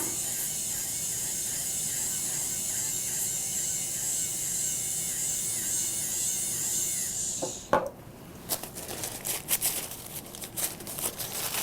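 A wet polishing wheel buffs the border of a denture partial with a steady whirring hum. The tone breaks off sharply partway through, followed by scattered clicks and handling noises.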